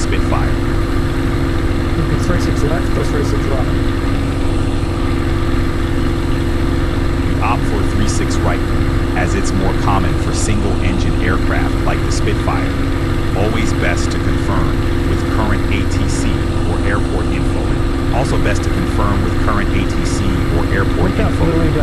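Supermarine Spitfire propeller engine droning steadily in Microsoft Flight Simulator, a constant low rumble with a faint tonal hum running throughout, while a person talks over it.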